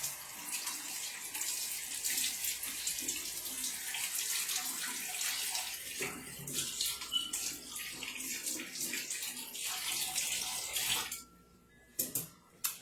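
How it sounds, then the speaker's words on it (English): A kitchen tap runs as hands are washed beneath it, a steady close splashing stream with shifting water sounds that cuts off near the end, leaving a few short bursts. "let me wash my hands so I can show you how many I made this time"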